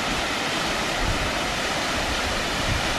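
Rushing water of a river flowing over a waterfall on Waterfall Way, a steady, loud, broadband roar filling the whole stretch without pause.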